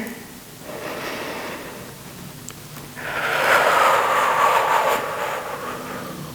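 A person breathes in and then exhales long and hard, as if through a straw, during a back workout, with strong airy rushes of breath close to the microphone.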